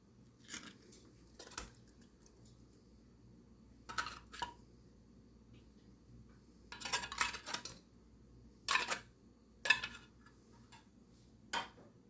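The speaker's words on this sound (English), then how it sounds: "we're going to open up both the cans here and dump them on in. Completely drain the other one" Canned tuna being emptied and drained into a Dutch oven for a pantry tuna noodle casserole: scattered metallic taps, scrapes and clinks in short bursts, fairly close, with quiet gaps between and no talking.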